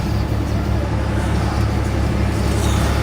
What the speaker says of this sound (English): It's too loud, man. The truck's too loud.